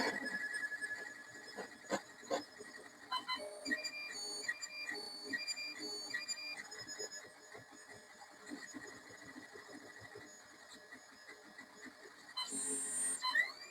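A 3D printer's extruder head travels back and forth while printing, its stepper motors singing in shifting whines and chirps, with clicks and brief pauses between moves, close and alone.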